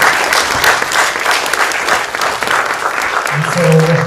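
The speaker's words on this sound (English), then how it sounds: "So let's give a big round of applause to our AKU campus team" Audience applause at a university campus event in Washington, with dense, steady clapping from a crowd throughout, and a voice briefly heard near the end.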